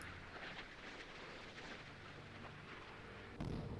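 Distant naval gunfire booms in a low, steady rumble as a ship's guns fire at incoming missiles in the Sea Power naval game, faint and continuous, ending with a slightly louder thump.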